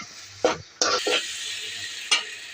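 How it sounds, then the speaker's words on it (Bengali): Split-milk chhana is stirred in a hot pan under a soft steady sizzle, with a few distinct scraping strokes and clacks of the spoon against the pan, close and without speech. "এখন ভালো করে নাড়া দেব।"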